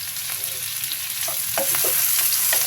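Shrimp and bay leaf frying in a pan for a banana flower recipe, a constant close sizzle with a few scraping stirs of a spatula toward the end, no talking.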